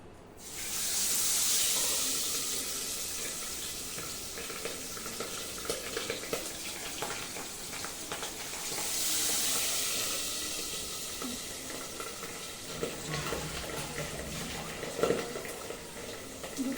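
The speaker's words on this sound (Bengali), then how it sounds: "পাবদা মাছ না কড়াইতে দিলে পর খুব ফাটতে থাকে, ওই জন্য ঢাকনাটা দিয়েই আমি মাছগুলোকে ভাজবো" Pabda fish frying in a covered kadai, heard as a soft, continuous hiss and sizzle that swells twice, with faint pops and clinks and no voices.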